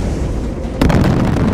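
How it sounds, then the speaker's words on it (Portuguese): A mortar blast in Far Cry 4 lands with a sudden loud boom that breaks over a constant rumbling din, leaving a dense roar afterward. "Mas isso deve ser o suficiente pro pessoal começar a jogar morteiro"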